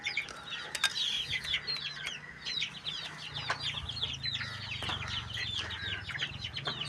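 Chickens cluck repeatedly in a home yard on an evening, their short calls scattered steadily across the scene at moderate distance, with no talk and a low steady hum underneath.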